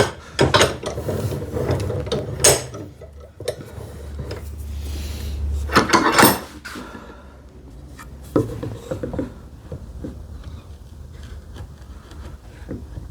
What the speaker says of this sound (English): let me clamp it in so that I'm not juggling with the sharp